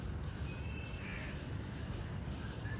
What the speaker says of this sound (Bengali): কাকেরা একসাথে খায় না কেন, মারামারি করে কেন বুঝি না, ওরা মারামারি করতেছে কেন?